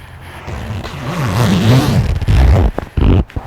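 A heated jacket zipper is pulled up and down in several scraping runs, close to the ear, ending in a couple of quick sharp zips.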